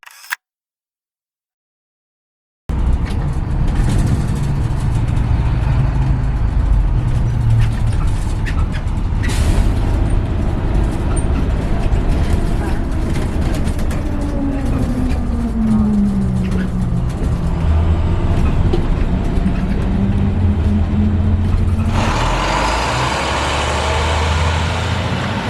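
Steady low engine rumble and road noise inside a bus on the Route 1A heading to Nevada City, with jolts and rattles throughout, a rising whine of the engine midway, and faint voices in the background.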